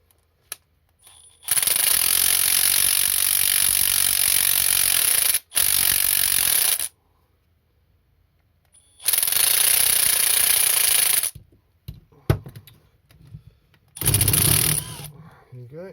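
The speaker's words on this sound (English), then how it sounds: "Two-jaw puller on there." A two-jaw puller draws a bearing off a Stihl TS350 cut-off saw, heard as loud bursts of grinding, rattling mechanical noise in several long runs separated by silences and small clicks.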